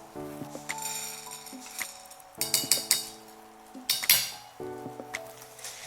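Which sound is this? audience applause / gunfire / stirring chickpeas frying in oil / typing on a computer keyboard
stirring chickpeas frying in oil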